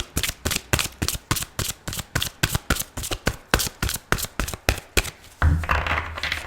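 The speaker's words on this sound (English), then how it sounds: "if you don't like the shuffling, please fast forward" Rapid, rhythmic riffling of a deck of cards, about two shuffles per second, followed by a softer rustle and a low hum.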